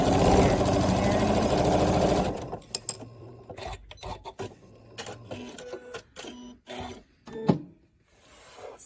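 A sewing machine stitches the last seam of a quilt block in a short, dense run, then stops, leaving a few faint clicks and handling sounds.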